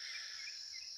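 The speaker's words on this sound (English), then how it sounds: "We get to be here every evening and listen to the frogs chirp" Evening chirping of frogs on unimproved homestead land, a steady, dense high-pitched trill at moderate distance, continuous and unbroken, with no voices.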